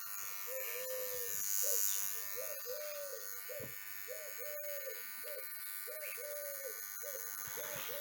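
A low, steady electrical hum with a rough buzzing edge from a faulty transformer in a GOLON RX-98UAR radio receiver, pulsing in a repeating pattern, close by and continuous throughout.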